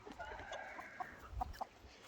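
Hens in a backyard pen give soft, scattered clucks, a few short sharp notes standing out close by against a quiet background.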